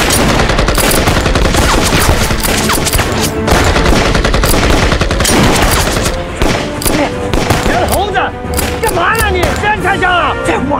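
Rifles and machine guns fire in a battle scene from a kung fu anti-Japanese war film, with loud, rapid bursts and crackling volleys layered over music and shouting voices.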